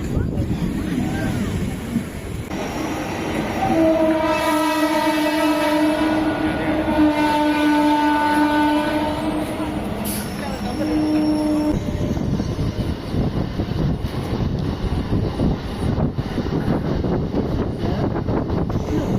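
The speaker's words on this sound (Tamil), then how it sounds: "குறுக்க ட்ரெயின் வந்ததுனால வந்து ட்ரெயினில் ஏறிட்டோமா" Train arriving and running on a line between Chennai airport and Velachery, with a loud horn blaring for several seconds and the rumble and clatter of the cars continuing close by, and people talking underneath.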